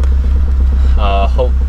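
A car fitted with a new Wilwood clutch master cylinder and AEM fuel pressure regulator drives in first gear, its engine giving a steady low drone beneath someone talking nearby.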